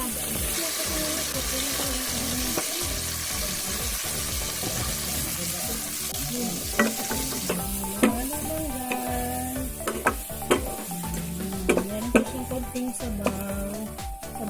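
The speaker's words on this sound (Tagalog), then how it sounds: "sunod ko nang ilalagay ang ating shrimp" Shrimp with bell pepper sizzle loudly in butter and garlic, a dense close frying hiss overlaid by repeated clinks and scrapes of a utensil stirring the pan.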